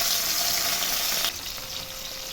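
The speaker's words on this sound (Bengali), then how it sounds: "এবার আমি দিয়ে দিচ্ছি সর্ষের তেল মাছ ভাজার জন্যে।" Mustard oil heats in a hot wok ready for frying fyasha fish, producing a loud, dense sizzling hiss that suddenly drops to a quieter, steadier crackle partway through.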